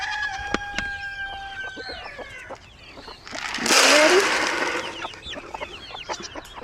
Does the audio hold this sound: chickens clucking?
yes